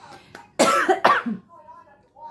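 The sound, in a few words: cough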